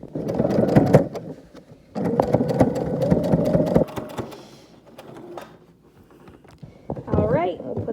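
A home sewing machine stitches a fabric face mask in bursts, running fast and rattling for a couple of seconds at a time, close up and fairly loud, with pauses and a voice speaking in between.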